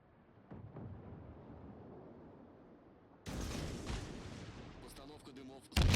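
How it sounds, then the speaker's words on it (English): Battleship high-explosive shells booming in World of Warships, the deep rumbling gunfire rising suddenly to a loud sustained blast midway, followed by sharp crackling impacts and a final heavy boom. "So he's even shooting high explosive at me"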